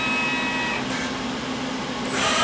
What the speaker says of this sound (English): The machine is going to find the center of that bar as soon as I tell it to start